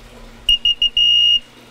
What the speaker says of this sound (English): We'll get our double beep to exit.